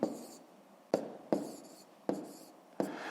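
A pen writing numbers on paper during a fifth-grade math exercise, five distinct strokes spaced irregularly, each a quick scratch fading out, close and clear, with no one talking.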